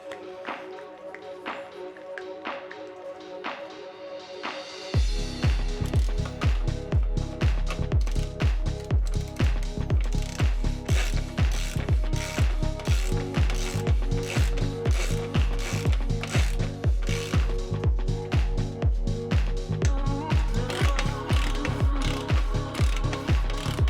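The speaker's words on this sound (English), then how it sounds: "Torquing up to 40 Newton meters." A torque wrench ratchets a bolt to 40 Nm while a Mason Definition bicycle is being built. Quiet clicking gives way after a few seconds to loud, evenly spaced ratchet clicks that continue steadily.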